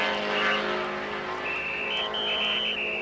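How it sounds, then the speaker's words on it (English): Race cars in a 1980 E-Production national championship race, including Porsche 914s, roar past on the track with a sustained engine whine rising in pitch, loud and continuous without talk. "to complete lap number 10 of 18 in this E-Production National Championship race"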